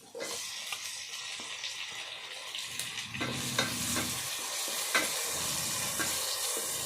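Finely chopped tomatoes frying lightly in a pan for a Rayalaseema dish, a close, bright sizzle that turns louder and denser partway through, with stirring clatter and a brief run of water.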